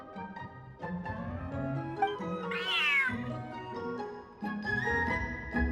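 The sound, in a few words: cat meowing in video game Genshin Impact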